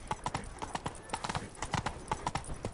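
Horse hooves clip-clop in a quick, rhythmic gallop in The Witcher 3, a run of sharp, fairly close hoofbeats with faint game audio underneath.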